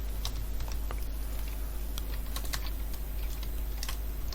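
Android code being typed on a computer keyboard, a steady, close patter of rapid key clicks with no talking.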